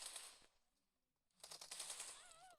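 Video game gunfire rattles out in two rapid automatic bursts, the first brief and the second longer, separated by a near-silent gap.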